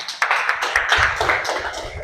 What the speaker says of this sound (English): We applaud the CP more.